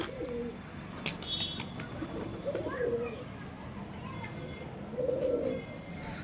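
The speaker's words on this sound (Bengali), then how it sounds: "তো পায়রাগুলোকে আমি এখন খাবার দিয়ে দেখে নিই" Pigeons being fed on a rooftop flap their wings in sudden bursts and coo softly nearby, with a faint human voice calling to them in the background.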